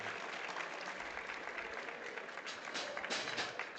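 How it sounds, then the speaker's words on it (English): Steady applause from an audience at an Open Nationals event fills the clip, a dense continuous patter of many hands clapping with a few sharper bursts near the end. "Somebody clap their hands."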